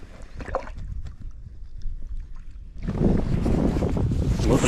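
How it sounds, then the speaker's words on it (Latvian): A small boat with a 5 hp outboard motor passes on a lake. The sound starts quiet and windy, then a loud, steady broadband rush and engine drone swells in at close range and holds to the end. "Kur čoks brauc, ar 5-nieku motoru."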